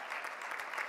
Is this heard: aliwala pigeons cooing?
no